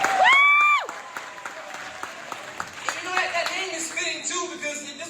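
Crowd applause breaks out at a Wilmington, Delaware speech event, rising after a brief tonal sound and continuing as a moderate, scattered clapping with some voices underneath.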